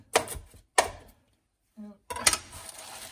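A knife chops lettuce on a cutting board at home: three sharp, separate chopping bursts with short silent gaps and a brief murmur between them.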